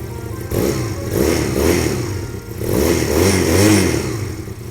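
A GPX Legend 250 Twin Mark 3 twin-cylinder motorcycle idles with a throaty, pulsing exhaust, rising twice in brief revs before settling back; close and steady, no voices.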